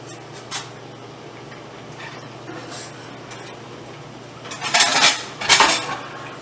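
Dry rice poured into a pot for Thanksgiving jook, a soft rattling and clinking of grains and cookware that swells into two louder bursts near the end, close by with no talk.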